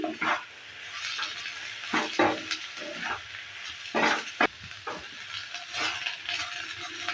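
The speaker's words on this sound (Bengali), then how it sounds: "এবার এর মধ্যে দিয়ে দিচ্ছি নারকেল গুঁড়ো। দেওয়ার পর এভাবে করে একটু নেড়ে চেড়ে নিচ্ছি।" Ivy gourd pieces stir-fried with coconut powder in a pan, stirred with soft repeated scraping and light sizzling, fairly close and moderate in level.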